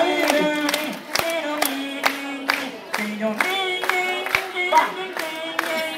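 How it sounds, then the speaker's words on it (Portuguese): A crowd at a park claps along to a song, rhythmic hand claps falling in steady time under singing and musical tones. "Então vamos me acompanhar nas palmas"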